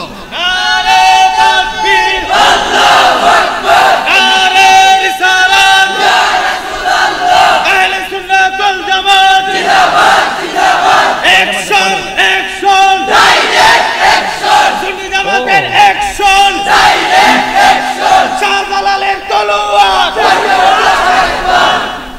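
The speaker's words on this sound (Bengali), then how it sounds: "একটা স্লোগান হবে ফাগলা স্লোগান দাও" A large crowd at a Bengali waz religious gathering chants slogans in loud, rhythmic unison, with the shouted phrases rising and falling in repeated waves across the whole stretch.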